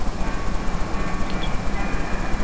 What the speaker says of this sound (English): Run these SD60s, I haven't run them in a while, and the green train.